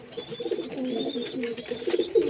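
Pet pigeons coo steadily in a home loft with newly hatched chicks: a continuous, close chorus of overlapping throaty coos with no voices.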